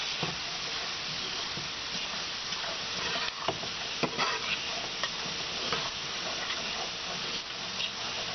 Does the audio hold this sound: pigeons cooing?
no